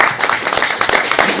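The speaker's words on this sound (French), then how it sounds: "je vous applaudis." Audience at a meet-up applauding: a short burst of steady, fairly loud clapping from a small crowd, with no talk.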